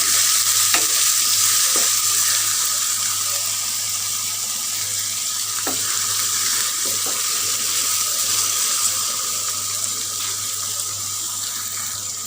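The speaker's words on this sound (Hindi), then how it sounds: "भून लेंगे इनको" Ginger, green chilies, tomatoes and crushed garlic fry and get stirred in a pan for a tori sabzi masala, a steady close sizzle with occasional scraping clinks, and no one talking.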